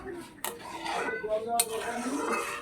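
Rice stirred in milk in a metal pot with a spoon, giving soft scraping and a few sharp clinks against the pot, fairly quiet and close while someone talks over it.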